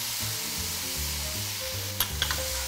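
Minced duck stir-fried with fish sauce, chili flakes and toasted rice powder gives a steady loud sizzle with spatula scrapes and a couple of sharp clinks near the end, close and without talk.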